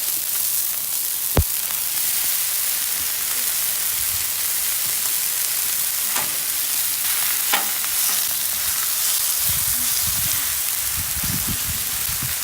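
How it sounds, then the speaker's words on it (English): Cheesesteak meat browning in a hot pan gives a steady hiss of sizzling, broken by a sharp knock near the start and a few scraping stirs later, with low rumbling spatters toward the end; no one speaks. "So let's get this meat browning up"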